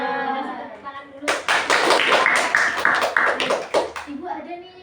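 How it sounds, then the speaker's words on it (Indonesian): Schoolchildren in a classroom clapping together for about three seconds, a dense burst of applause that stops abruptly, with children's voices talking before and after. "Tepuk tangan dulu."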